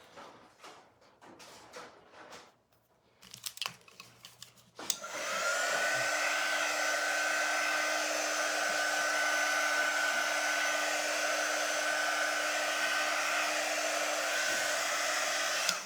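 A hair dryer switches on after a few seconds of handling clatter and runs with a loud, steady blowing roar and a constant motor hum while drying a freshly cleaned part, then cuts off at the end.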